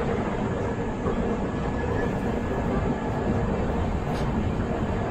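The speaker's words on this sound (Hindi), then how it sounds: "ऐशबाग से अपनी ट्रेन निकल चुकी है" Darbhanga Humsafar Express train running after leaving Aishbagh, a steady loud rumble and clatter of the moving carriage heard from inside, continuous and unvarying with no talk.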